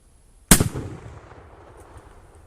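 A single loud rifle shot of 7.62x54r fired from a Steyr M95 chambered in 8x50R, a sharp close crack followed by a long rolling outdoor echo that fades over two seconds.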